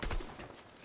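Gunfire in the Fortnite video game, a brief burst of rapid shots at the very start that fades out within a second.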